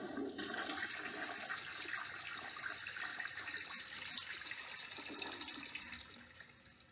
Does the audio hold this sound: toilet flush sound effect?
yes